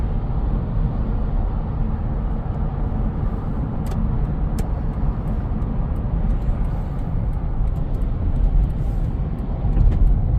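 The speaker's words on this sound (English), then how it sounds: "Lots of traffic, it seems like," Steady road noise surrounds a 2009 200 Series Land Cruiser on the move, a constant low roar of tyres and engine with traffic around it, heard from inside the vehicle without any talk.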